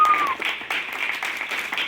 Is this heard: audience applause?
yes